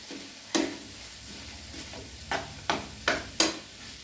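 Masala being stirred and fried in a pan, a soft continuous sizzle broken by five sharp scraping strokes of the spoon, close and alone with no voices.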